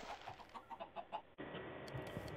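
Chickens in the video game Minecraft give a quick run of short, evenly spaced clucks that break off abruptly, followed by a steady background hiss with faint blips.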